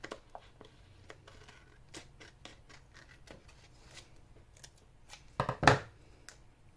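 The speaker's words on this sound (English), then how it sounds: "And then cut this off." Scissors snip through Happy Planner paper in a series of small, close cuts, ending in a louder, sharper crunch of the final snip; no talking.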